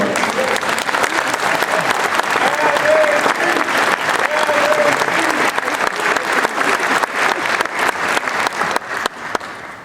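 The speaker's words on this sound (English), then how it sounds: "Let's round of applause." A large audience applauds at a Michigan State University Executive MBA commencement ceremony, producing a loud, sustained wash of clapping that continues for about ten seconds and thins slightly toward the end.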